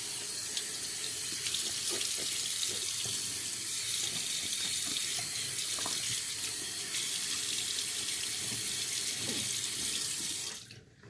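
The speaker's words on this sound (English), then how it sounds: "I'm going to rinse off the face now." A bathroom tap runs steadily into a sink while a freshly shaved face is rinsed, a loud continuous hiss of water with small splashes that cuts off near the end, with no one talking.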